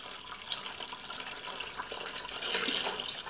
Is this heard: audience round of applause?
no